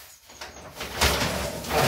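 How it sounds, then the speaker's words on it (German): A drawer of a canary flight box is pulled out, giving a short wooden scraping slide that grows louder toward the end, with faint rustling before it. "Ich habe dann noch die letzte Schublade."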